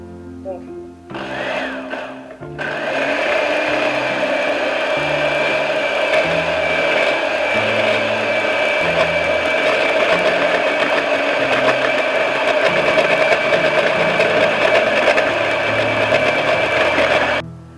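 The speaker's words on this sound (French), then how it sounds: "On va commencer à mixer en versant vraiment un tout petit filet, très mince, continu, comme si on montait une mayonnaise" A blender runs continuously for about fifteen seconds, mixing a vegan Tunisian sabayon as a thin, steady stream of oil is poured in; a steady, loud motor whir starts after a brief pause.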